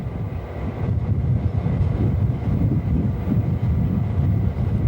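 An Algoma Central tour train pulls in for a stop, a low, steady rumble of rolling cars that stays fairly loud and unbroken across the clip.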